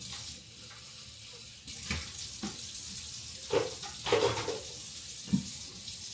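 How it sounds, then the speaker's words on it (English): Tap water running into a single-basin kitchen sink during dishwashing, a steady hiss of flow with a few louder splashes and clatters, close and without speech. "Your water is flowing."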